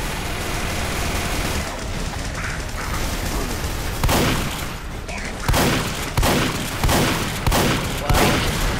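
Chain gun firing in Team Fortress 2 co-op play: a loud, dense, continuous roar of rapid gunfire with heavier rhythmic bursts punching through in the second half.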